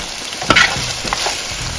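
Chicken, shrimp and fish balls sear in a hot pan for chopsuey with a loud, close, continuous sizzle, and a brief scrape from stirring comes through partway.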